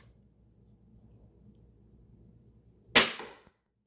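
An EK Archery RX Cobra Adder repeating crossbow fires freehand during a speed test: a single sharp, loud snap near the end, with a short ringing decay after a quiet, low background hum.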